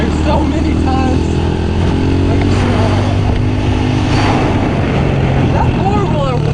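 A four-wheeler engine drones and revs loudly during a pitbike and four-wheeler tag game outdoors, constant and near, with voices mixed into the engine noise.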